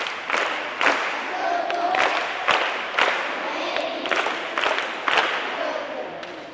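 A crowd at a children's Christmas church programme claps in bursts of sharp percussive hand slaps, moderately loud and steady, with some murmuring voices mixed in.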